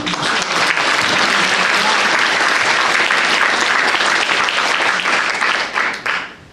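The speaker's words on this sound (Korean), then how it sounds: "이 모든 분들 힘찬 박수를 받을 자격이 있습니다." Loud, dense applause fills a hall at an anniversary fundraising gala for a welfare-state advocacy society. It is sustained and strong for about six seconds before dropping off abruptly at the close.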